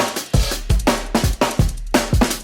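Drum and bass beat from an Addictive Drums kit with chopped, glitched stems, a small shaker and bus processing: fast punchy kicks and snares hitting in a driving rhythm, loud and up front with no talk.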